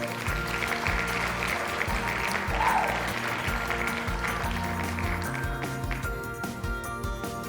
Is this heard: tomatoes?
no